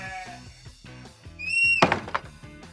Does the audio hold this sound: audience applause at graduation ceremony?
no